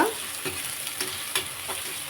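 Onion, green and dried chillies, curry leaves and garlic sizzling in hot tempering oil for drumstick dal, a steady close hiss with a few soft stirring scrapes.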